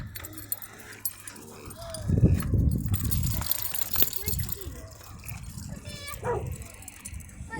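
Dogs out on a walk bark and yip in short bursts amid jangling and footsteps, with voices talking between the barks.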